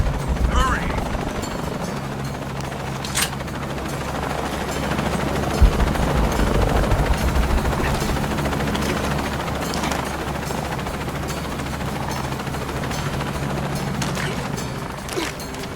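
A helicopter in the Shadow of the Tomb Raider video game, with dense rotor thumping and engine roar running steadily throughout, broken by a few sharp mechanical clanks and bangs.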